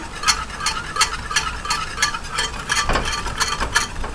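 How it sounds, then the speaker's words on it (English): Chocolate being whisked into a cup of coffee, producing a quick, even series of close, bright clinking whisk strokes against the cup, repeating about three times a second. "And chocolate seems to float on the top, so just kind of whisk it in."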